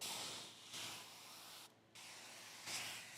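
Several short hissing bursts from a spray bottle spraying water onto a Mercedes S500 car window, close by, with brief pauses between squirts.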